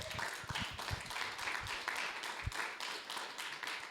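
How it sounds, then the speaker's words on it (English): An audience at an evening event applauds with steady, dense clapping for the whole stretch, heard from a moderate distance. "So give you guys a round of applause for coming out tonight."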